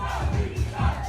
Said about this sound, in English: We're getting the crowd cheering his name.